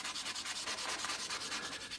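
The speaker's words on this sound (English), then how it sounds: "we're just going to start sanding like that" Wet sanding of a mixed resin handle on an envelope opener gives a steady, soft back-and-forth rasp in quick rhythmic strokes, close and fairly quiet, with no talking.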